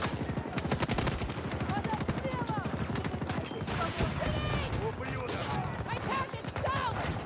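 An incendiary explosion goes off during a chaotic Battlefield firefight, buried among continuous rapid gunfire and crashes, all fairly quiet and busy in the mix.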